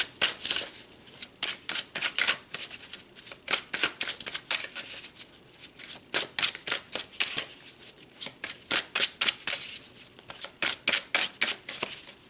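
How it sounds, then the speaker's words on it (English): Tarot cards being shuffled and pulled during a reading, a long run of crisp, rapid riffling bursts in steady repeated rhythm, close and fairly loud, with no talking. "So let's pull some more cards"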